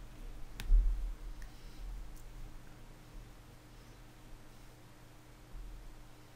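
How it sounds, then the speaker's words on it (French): A single sharp computer mouse click, as when selecting search in Google Earth, faint and close, followed by quiet room hiss. "je clique sur Toulon dans la zone de recherche"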